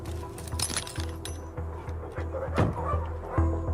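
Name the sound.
police dog barking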